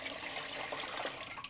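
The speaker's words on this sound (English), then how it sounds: "we're just pouring the water in" Water poured from a quart mason jar into a pressure canner, a steady continuous gurgling pour with no gaps, moderately loud and close.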